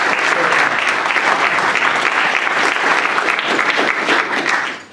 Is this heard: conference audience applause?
yes